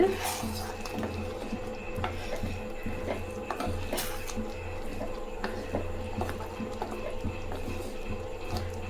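A metal lid clanks as it is lifted off a pot of thickened chicken curry, with a few sharp clatters and scrapes over a steady low kitchen hum.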